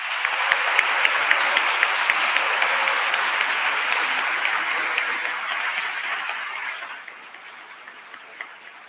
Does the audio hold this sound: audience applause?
yes